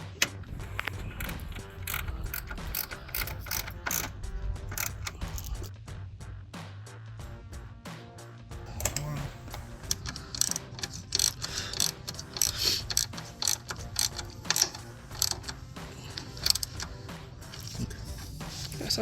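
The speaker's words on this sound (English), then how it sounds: "now we're going to go ahead and bolt our 10mm right here and on the other side" A ratchet tightens 10mm bolts holding a CSF replacement radiator on a Jeep Wrangler JK, making rapid close clicking in repeated bursts, with brief pauses between runs.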